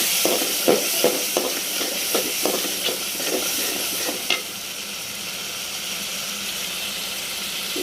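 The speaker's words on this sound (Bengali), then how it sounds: "এখন ভালো করে কষে নিতে হবে।" Spices for a fish curry sizzling in hot oil in a home kitchen, a steady hiss overlaid with a series of scraping stirring strokes that fade out, leaving only the continuous sizzle.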